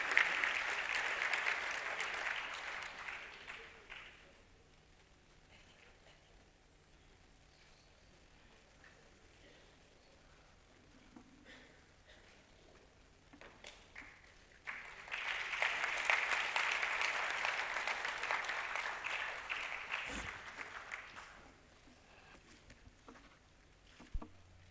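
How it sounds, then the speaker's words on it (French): An audience at a formal ceremony applauds in two bursts, one at the start and another midway, each a dense, distant roll of clapping separated by a quieter stretch of room noise. "Sous vos applaudissements"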